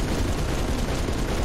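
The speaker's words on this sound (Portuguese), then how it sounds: "tem uma torreta atirando" Turret firing in the Halo 3 video game: a dense, continuous burst of rapid gunfire, loud and close, rumbling without pause through the whole moment.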